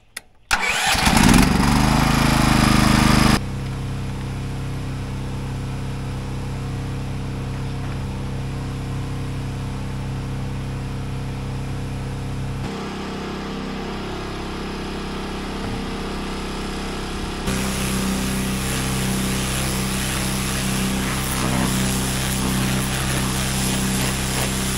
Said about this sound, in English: Let's get the pressure washer fired up.